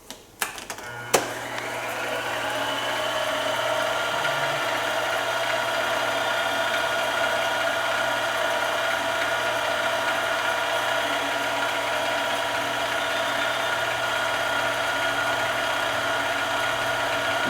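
Steady motor whine and hum from a jeweling machine working a 5/16 abrasive across a Remington 700 part, starting with a few clicks and then running continuously at close range.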